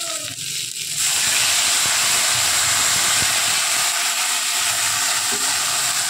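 Water hits frying bitter gourd in a hot pan after a short quiet moment and sets off a loud, steady hiss of steam and sizzle that keeps going to the end.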